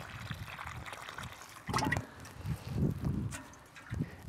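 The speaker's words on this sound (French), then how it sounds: "Un arrosage." Water poured onto the soil around a newly planted agapanthus in a garden bed, a soft trickling splash that comes in short bursts at a moderate, close level with no talking.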